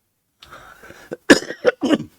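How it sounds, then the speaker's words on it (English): A man coughs several times in quick bursts, close and loud, after a brief throat-clearing rasp. "Bloody cough, I tell you."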